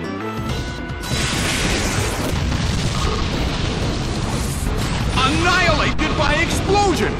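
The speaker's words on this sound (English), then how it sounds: "Annihilated by explosion." Explosion in a Pokémon Battle Revolution match, a loud dense burst of crashing noise that rolls on for several seconds, with a background commentator's voice running underneath.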